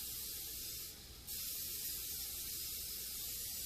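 Cooking oil spray hisses onto a casserole pan in a home kitchen in a steady close burst, breaking off for a moment before it resumes.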